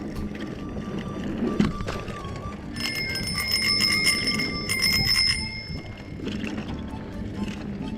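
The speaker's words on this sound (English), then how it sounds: "a high-frequency bike bell will let them know that there's cyclists behind them and that they should clear the trailway" A high-pitched mountain bike bell rings in a few quick bursts of bright metallic dings, close and clear over a soft outdoor background hum.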